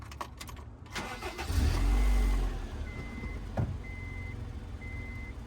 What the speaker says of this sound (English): Should start, but it's gonna struggle and turn off because there's still fuel in the fuel row